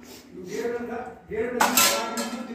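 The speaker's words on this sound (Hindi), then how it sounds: "अभी मैंने बर्तन धोए तो अब है अमित की बारी अब अमित कढ़ाई साफ करेगा" Metal dishes, a plate and a kadhai are washed by hand, giving scraping rubs and then bright clinking clatter close by.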